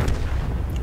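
A tank cannon shot in the World of Tanks video game, one loud, booming blast that fills the short moment with a deep rumble.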